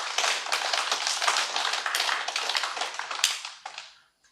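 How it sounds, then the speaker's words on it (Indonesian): Church audience applauding at a closing Eucharist for diocesan priests, a dense steady clapping of many hands that fades out toward the end, with no talk over it. "Sekali lagi kita beri tepuk tangan untuk panitia."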